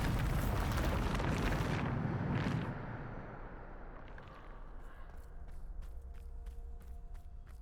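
A Bombarda spell blast in Hogwarts Legacy, a loud roaring burst filling the first couple of seconds and then rumbling away into a quieter tail with faint clicking debris, alone with no talk.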